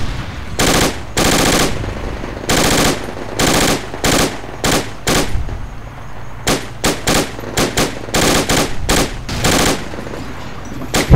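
Machine gun fire in the military shooter Project Reality, loud, close bursts of rapid automatic shots, some long and some short, separated by brief pauses, with no talk over them.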